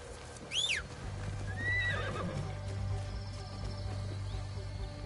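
A horse neighs once, followed by a shorter whinny, over steady ambience in the video game Assassin's Creed Shadows, with a low hum and faint hoof clops.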